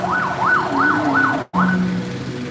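A wailing village ambulance siren sweeps up and down in repeated cycles during a street protest in Lombok, Indonesia, loud and close, cutting out briefly before resuming over low engine rumble.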